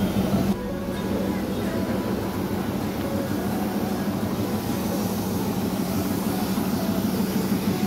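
Darjeeling toy train pulling into Ghum station, a steady low rumble and mechanical drone that holds loud and constant throughout, with a broad hiss of station ambience over it.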